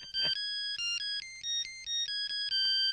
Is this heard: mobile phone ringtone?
yes